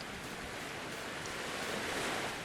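Steady, loud rush of water in the video game Voyagers of Nera, a continuous broadband wash of surf-like noise that swells slightly toward the end, with no voices over it.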